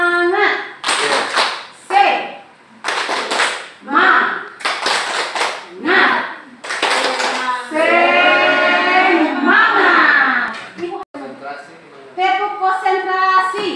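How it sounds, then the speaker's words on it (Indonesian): A classroom group of students and a teacher doing the 'tepuk semangat' ice-breaker, a rhythmic clapping pattern in bursts alternating with chanted voices, close and loud. "Sekarang kita tepuk semangat ya Pak. Oke, tepuk semangat."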